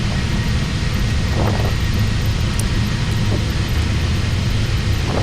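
Boeing 737 jet engines at takeoff power departing Athens, heard from the cockpit as a loud, steady, unbroken roar with a faint rumble underneath.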